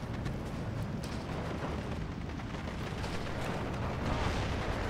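Dense, continuous rumble of 60mm mortar fire and distant explosions in the Steel Division 2 war game, a steady low-heavy barrage at moderate level with no clear individual blasts standing out.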